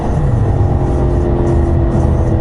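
A 2013 Audi RS5 fitted with an X-pipe exhaust gives a continuous, loud, throaty engine roar that holds steady throughout, heard up close with no talking.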